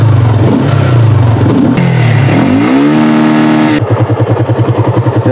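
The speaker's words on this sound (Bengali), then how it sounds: "মনোটন বাইকে যে কত পরিমাণ ফাস্ট আরপিএম ওঠে আপনারা নিজের চোখে দেখে নিন।" Suzuki Monoton motorcycle engine revved hard and loud up close, rising to high RPM with a sharp climbing whine, then settling into a pulsing throttle burst, no talk over it.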